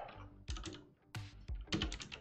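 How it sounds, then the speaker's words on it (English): Computer keyboard typing during a live coding session: short clusters of sharp, close key taps separated by brief silent gaps, with no speech. "Let's actually just type it."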